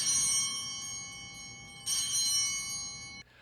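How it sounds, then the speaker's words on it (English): Altar bells at a Catholic Mass, rung at the consecration. They give a sustained bright metallic jingle that fades slightly, is struck again more loudly partway through, and then stops abruptly. "the priest raises the host, and then the bells ring"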